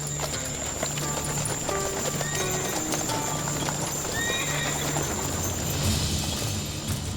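Horses whinny and neigh repeatedly over steady clip-clopping hooves, part of a dramatized scene of an army with horses and chariots; busy, dense, fairly loud, with no speech.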